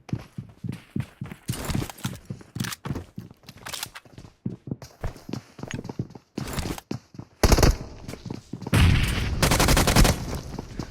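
Rapid bursts of automatic gunfire and single shots from a BGMI battle royale firefight, loud and close, with dense volleys late in the fight and footstep-like thuds between them.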